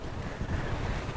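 Strong wind buffets the microphone in a steady, broadband roar across open ground at a historic ranch, with no voices over it.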